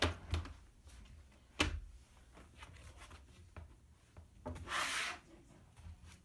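A microfiber cloth is rubbed over a smudged device in short, close, soft strokes, with a few sharper scuffs and a longer wipe near the end, no talking.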